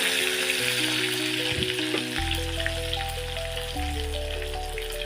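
Small chopped onions fry in oil for a baby potato curry, a bright steady sizzle like light rain on a hot pan, with a few stirring scrapes and musical tones underneath.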